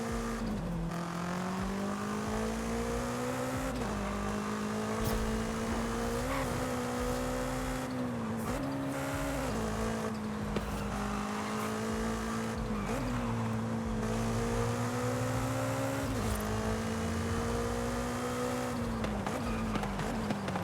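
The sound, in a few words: car engine in a racing video game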